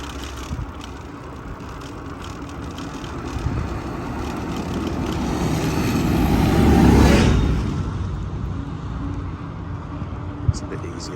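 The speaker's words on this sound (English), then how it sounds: "Oh, there's a tractor." A tractor passes along a country road near a cyclist, its rumble swelling to a peak and fading again over a constant rush of wind and tyre noise, with a person talking.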